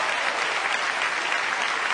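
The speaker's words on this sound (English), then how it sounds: "Give her a big round of applause." A comedy-show audience claps steadily and loudly, a dense wash of applause with no pauses.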